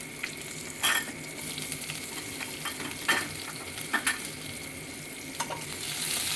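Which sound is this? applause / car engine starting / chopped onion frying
chopped onion frying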